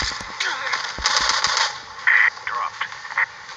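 Gunfire in the Call of Duty Strike Team video game, bursts of rapid shots and short bursts of fire mixed with radio-like game chatter and a voice talking over it.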